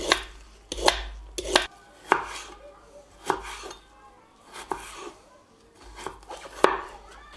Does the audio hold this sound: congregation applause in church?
no